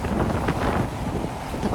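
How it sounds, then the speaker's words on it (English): Strong wind gusts batter a rooftop garden, a loud continuous roar with buffeting on the microphone, unbroken for the whole stretch. "The sound of the wind cuts through the air, sharp and loud."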